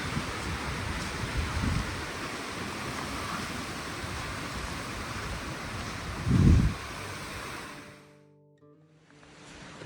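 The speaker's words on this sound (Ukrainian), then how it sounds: "І почався вітер." Gusting wind rushes in a broad steady roar with a brief buffeting thump on the microphone, then drops away to near quiet before rising again.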